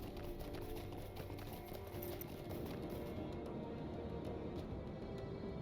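Pony hooves clip-clop at a run in Lord of the Rings Online, a quick, steady stream of hoof taps on the road over constant in-game ambience, moderately close.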